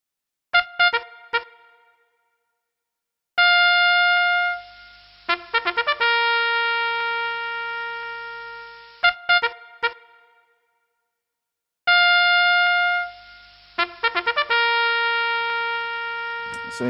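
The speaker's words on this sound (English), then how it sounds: "So I have chopped it. It was a loop. It was a trumpet" A chopped trumpet loop resampled in Fruity Slicer for an Afro-pop beat plays as bright, clipped brass stabs and sustained held notes in a repeating pattern, separated by short silences.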